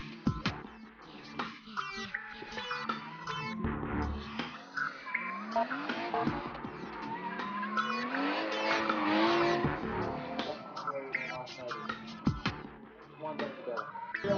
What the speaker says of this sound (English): Camo's big-powered R32 Skyline also bushfired the entire track, much to the delight of the crowd.